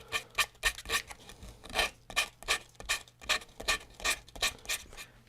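A guitar neck is hand-sanded with 150-grit sandpaper in quick back-and-forth strokes, a close, dry rasping scrape repeating in a steady rhythm of about two strokes per second.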